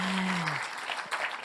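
An audience at a Colombian evening film presentation applauds in a steady, dense wash of clapping, a voice trailing off at the start before the clapping fills the rest of the short moment.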